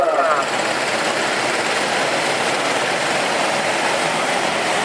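Many rental go-kart engines roaring together at the start of an eight-hour endurance race at an outdoor kart track, a loud, dense, steady drone that stays constant throughout.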